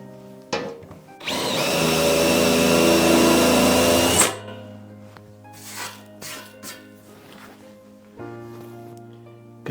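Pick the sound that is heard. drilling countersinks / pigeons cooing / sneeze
drilling countersinks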